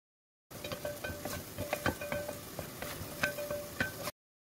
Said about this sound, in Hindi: चिकन वाले ऑयल में 2 अदद दरमियाने प्याज, 1 गट्ठी लहसुन की डालकर पकाएंगे